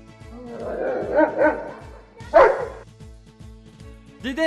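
A dog barks close by in several loud yips and woofs, with whimpering between the barks, over a steady low rhythmic thumping.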